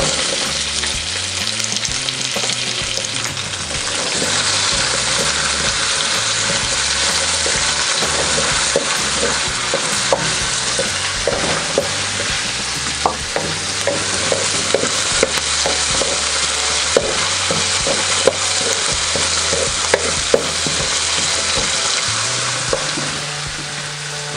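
Sliced onions and garlic sizzle loudly in hot oil in a pan while cooking native chicken tinola, a dense continuous crackle and hiss with scattered pops and stirring scrapes, close and steady with no voices.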